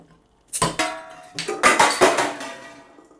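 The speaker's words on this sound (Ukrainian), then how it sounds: "чому я відкриваю пиво запальничку" Beer bottle popped open with a lighter: a few sharp metallic clinks and taps spaced over a couple of seconds, followed by a brighter clatter of glass and cap, close and clear with no talking.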